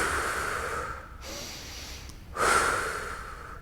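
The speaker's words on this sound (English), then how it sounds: "So we're gonna take some nice deep breaths." A person takes slow, deep breaths during a calming cool-down after a workout, a long airy inhale through the nose followed by a brief pause and a fuller exhale, close and alone.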